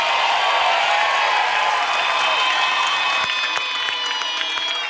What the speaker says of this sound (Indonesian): Tepuk tangan dong buat Candy Cheers